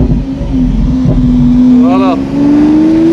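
A four-wheel-drive Lamborghini Centenario launches hard in the desert, its engine note climbing steadily as it accelerates, loud and close, with a short spoken word and a tyre squeal briefly riding over the drone.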